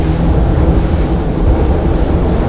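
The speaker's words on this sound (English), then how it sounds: "she just hits those waves" A Valhalla 41 powerboat hull slams through waves at high speed, a continuous loud roar of rushing water and wind buffeting with steady low rumble throughout, no talking.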